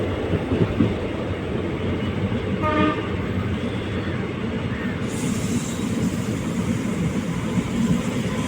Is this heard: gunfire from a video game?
no